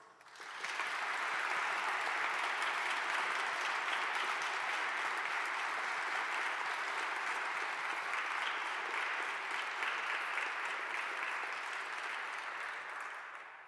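Sustained applause from a convocation audience honoring Barry M. Goldwater Scholarship recipients, a dense steady wash of clapping hands that swells in quickly and holds loud and even for over twelve seconds before starting to taper.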